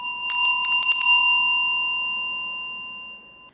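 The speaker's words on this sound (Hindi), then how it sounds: "हमारी घंटी बज चुकी है" A bright bell is struck a few times in quick succession, then its clear metallic ring hangs alone and fades slowly over about three seconds.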